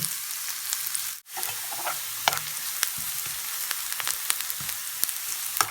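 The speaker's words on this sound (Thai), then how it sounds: "ก็เจียวให้มันออกเป็นสีแบบ เหลืองๆแดงๆหน่อยเพื่อว่าจะใส่ในลาบ" Oil crackles and sizzles in a pan as ingredients are fried until yellow-red for northern Thai pork larb, a dense steady spattering with scattered sharp pops and a brief dip near the start.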